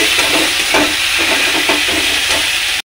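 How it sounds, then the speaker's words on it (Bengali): Potato, eggplant, radish, onion and green chilli fry loudly in a pan, with a steady close sizzle broken by rhythmic stirring scrapes until the sound cuts off abruptly. "ভাজাটা প্রায় হয়েই গেছে"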